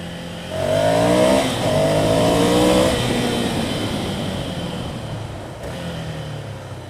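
A Ducati Scrambler Cafe Racer motorcycle engine roars while riding on a road, loud and close, rising in revs through the first few seconds and then settling into a steadier drone with heavy wind rush.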